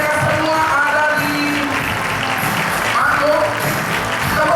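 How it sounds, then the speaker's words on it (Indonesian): Audience at a Harvest Agency 2017 awards event applauds unit managers and senior unit managers on stage: a dense, continuous wash of clapping throughout, with a voice talking over it. "Boleh kasih tepuk tangan Bapak Ibu"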